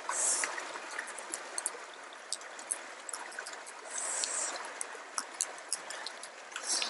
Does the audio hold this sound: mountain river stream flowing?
yes